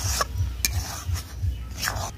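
A spoon scrapes and stirs a thickening sweet semolina mixture in a pot over a low flame, with soft repeated scraping strokes at a steady rhythm, close by.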